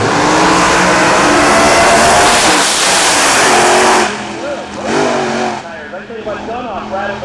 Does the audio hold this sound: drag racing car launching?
yes